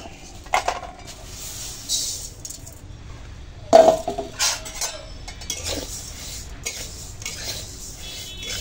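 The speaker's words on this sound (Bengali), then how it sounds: "চলো আগে ডালটাকে একটু কাঠখোলায় নেড়ে নিই।" Dal dry-roasted in a pan for khichuri, with intermittent metal clinks and scraping from stirring, one sharper clatter midway, close and fairly quiet, no voices.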